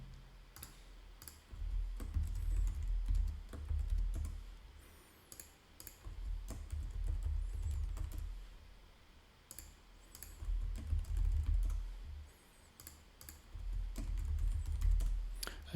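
Soft, rapid clicking of a computer keyboard as someone types, bursts of keystrokes with brief pauses, quiet and close with no voices.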